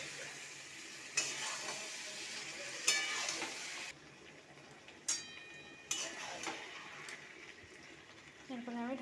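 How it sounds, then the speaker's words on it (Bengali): Marinated chicken sautéing in spiced masala in an oil-slicked pan, a steady sizzle broken by several sharp spoon scrapes and clinks, close by, with a voice faintly present at times. "চিকেনটা দিয়ে ভালো করে কষিয়ে নেব চিকেনটাকে"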